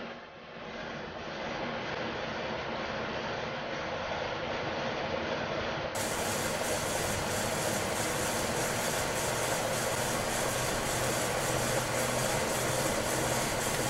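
A wood lathe runs at roughly 400 RPM, turning a double carrot wood bowl, giving a steady continuous mechanical hum with dense broadband noise that grows slightly brighter partway through and holds constant throughout.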